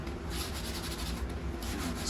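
Toilet brush scrubbing a toilet bowl with soapy water, rapid repeated rubbing strokes close up, steady and busy throughout with no talking.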